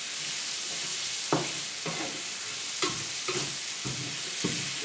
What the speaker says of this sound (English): You constantly stir it so that it won't get burned because I'm using high heat now